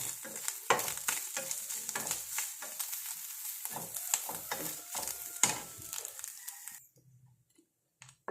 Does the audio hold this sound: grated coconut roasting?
yes